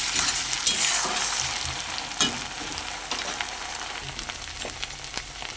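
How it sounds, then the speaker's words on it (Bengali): Ginger garlic paste frying in oil, a continuous close crackling sizzle with a few stirring scrapes and pops, no talking. "আদা রসুন বাটাটা আর একটু ভালো করে ভাজা ভাজা করে নেব যাতে গন্ধটা চলে যায়"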